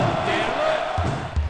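Crowd of fans cheering for the home team in an ESPN College Hoops 2K4 basketball video game, DePaul versus Washington, a steady loud arena roar with a couple of low thumps near the end.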